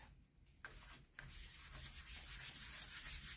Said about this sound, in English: I'm going to just basically buff it in and buff it off